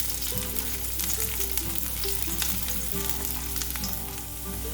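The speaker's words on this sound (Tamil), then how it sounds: "இதை லைட்டாக வறுத்துக்கோங்க." Olive oil sizzles steadily in a pan as garlic fries, a continuous crackling hiss up close with faint clinks underneath.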